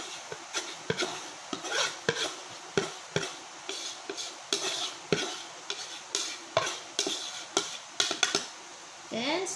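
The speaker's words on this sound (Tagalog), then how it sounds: "Haluin natin sa fruit salad." Fruit salad is mixed in a bowl, with a run of regular, close, soft sloshing and scraping stirs repeating about once a second.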